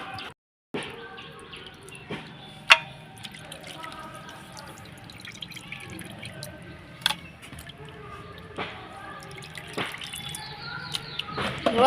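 Raw chicken skin washed by hand in cold water: soft, intermittent drips, small splashes and squelchy rinsing, quiet and close, with a brief silent gap near the start and a few sharper splashes later on.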